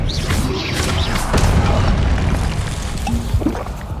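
A fire spell cast in Hogwarts Legacy on PS5 bursts out as a loud, dense whoosh-and-boom, with crackling impacts layered through four seconds of continuous game combat noise.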